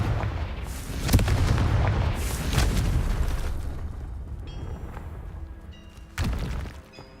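Confringo fire spell blasts in the Hogwarts Legacy video game, heavy booming explosions with crackling debris, one big hit early, rumbling in the middle and another sharp blast near the end, loud and close.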